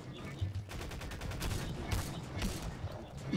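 Gunfire in the Garry's Mod sandbox game: loud rapid shots and bursts crackle steadily for a few seconds, with a voice briefly audible underneath.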